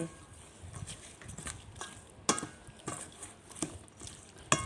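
Larb salad ingredients stirred and mixed together in a bowl, with irregular clinks and scrapes of a utensil against the dish, some sharper knocks, and someone speaking softly in between.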